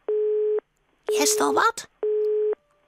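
A telephone busy signal beeps in two even, loud tones with a gap between them, and a person speaks briefly in that gap.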